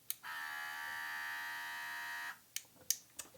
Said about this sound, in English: this is an airbrush. This is a tiny little battery-powered compressor.